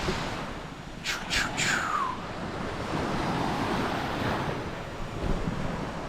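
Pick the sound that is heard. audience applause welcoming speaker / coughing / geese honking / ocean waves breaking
ocean waves breaking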